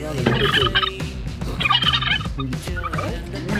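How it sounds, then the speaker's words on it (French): Turkey gobble sound effect played back by a smartphone voice assistant, a loud burbling rattling call repeated in a few bursts over about three seconds, with no talking. "Fais le bruit du dindon."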